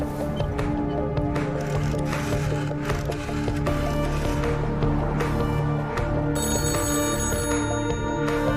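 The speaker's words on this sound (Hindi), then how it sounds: "कैबिन का फोन लगातार बज रहा" An office cabin telephone rings again and again in a steady bell-like pattern, set into a dense film soundtrack with music and other layered sound around it.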